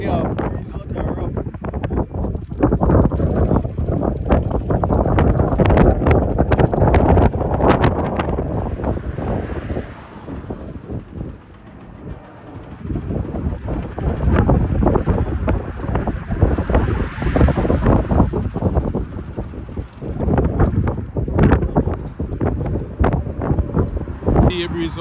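Strong, gusting wind at sea buffets the microphone with heavy rumbling, while a voice talks intermittently over it, the blustering easing briefly midway before rising again.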